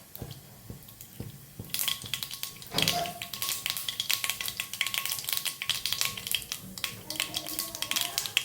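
Mustard seeds dropped into hot oil in a pan, crackling and popping in a dense rapid patter of small taps that begins abruptly and continues steadily, close and moderately loud.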